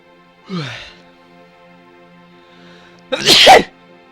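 Two sneezes come amid quiet, one short and moderate early, then a louder, fuller one about two and a half seconds later.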